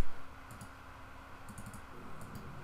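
A computer mouse gives light, crisp clicks in small clusters of two or three, spaced over a few seconds, faint over a quiet room hum.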